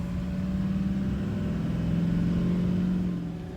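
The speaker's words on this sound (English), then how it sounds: "Oh, Ryan's gonna pick some rocks with the skid steer" A skid steer loader's engine runs steadily on a farm where hay and alfalfa are planted, a continuous close droning hum that holds a fairly even level throughout.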